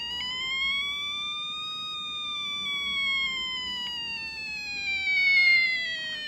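A theremin sustains a clear tone with strong harmonics, its pitch rising slightly then gliding steadily downward like a cartoonish falling sound as the player moves away, alone with no talk.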